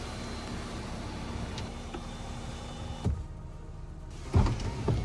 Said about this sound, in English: This CX-50 was equipped with a panoramic moonroof with a power sliding shade